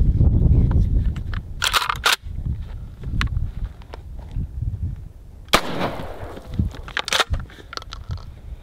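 Shotgun blasts from a KSG and a UTS pump-action shotgun fire outdoors, several sharp, loud reports spaced a few seconds apart, with handling clatter and rustling between shots.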